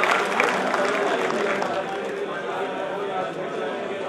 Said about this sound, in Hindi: जोरदार तालियां बजाएं श्री अशोक जी के लिए